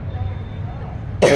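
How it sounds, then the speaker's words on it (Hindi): A single short cough or throat clear, close and loud, comes at the very end after a brief stretch of low room noise. "खांसी हो गया।"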